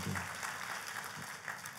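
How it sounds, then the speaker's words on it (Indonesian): Audience applause in a church service after a call to clap for God, a soft, steady patter of many hands heard from a distance for a couple of seconds. "Tepuk tangannya pula yang paling meriah buat Tuhan."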